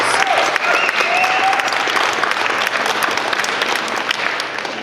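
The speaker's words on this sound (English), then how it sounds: "Please help me give all of them a big round of applause." An audience applauding at a Westside candidate night in 2022, a loud, sustained burst of clapping from a sizable crowd, with a few faint voices underneath.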